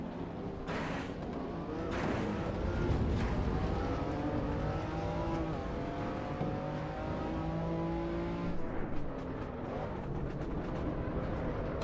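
Race car engine in Assetto Corsa EVO, revving and climbing through the gears with a rising exhaust note, steady and close for most of the stretch before easing off near the end.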